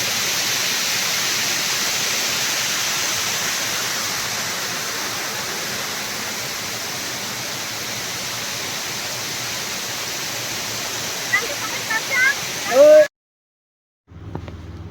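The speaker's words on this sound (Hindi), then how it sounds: "हमारे पीछे आप देख पा रहे हैं झरना, ये कितना बेहतरीन और भयानक है।" A large waterfall at a rock garden roars as a steady, dense wash of noise heard close by for most of the stretch, with a few brief knocks near the end before it suddenly drops to near silence.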